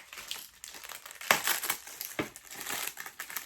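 A knife slicing open a cardboard subscription unboxing box up close, heard as scratchy, crinkling bursts with a couple of sharper rips in the middle and quieter rustling between them.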